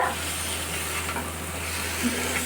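Boiled taro coated in fried spices being stirred in a pan, a steady soft sizzle and scraping hiss that runs evenly and close, with no talking.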